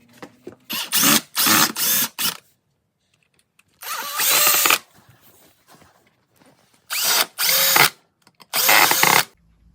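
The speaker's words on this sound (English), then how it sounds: "mount this to the runner on the press using pocket screws" A power drill drives pocket screws into wood while mounting a part to the runner of a C & P press. It sounds as a series of close, loud whirring bursts, some short and clustered and some longer, with quiet gaps between them.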